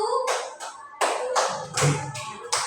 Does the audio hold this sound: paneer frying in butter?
no